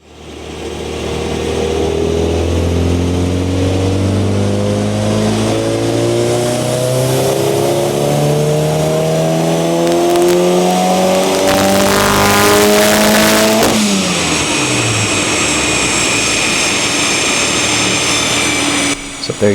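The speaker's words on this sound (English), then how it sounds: "So there you go, a power run on the Haltech Dyno." A Mini's engine makes a full third-gear power run on a Haltech dyno, droning loud and rising steadily in pitch for about fourteen seconds before the revs drop sharply as the throttle lifts and it winds down.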